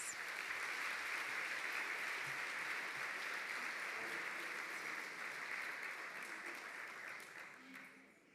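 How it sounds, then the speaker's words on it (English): Audience applause at the Women of Distinction 2023 live event, a dense, sustained wash of clapping from a large crowd that holds steady for most of the stretch before tapering off at the end. "Let's give them another round of applause."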